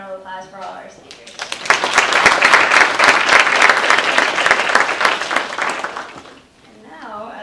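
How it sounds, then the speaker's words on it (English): Audience applauds the speakers with a loud, sustained round of clapping, bracketed by a speaking voice before and after. "Can we have another round of applause for all our speakers?"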